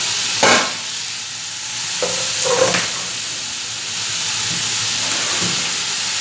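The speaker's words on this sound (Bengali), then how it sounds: "এবার এটাকে ভালো করে ভাজবো, বেশি তেল আমি ব্যবহার করিনি" Food fries in a pan with only a little oil, giving a steady sizzling hiss broken by a few sharp clatters of stirring, close and fairly loud with no talk.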